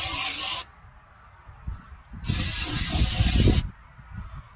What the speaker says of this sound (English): Take some brake clean.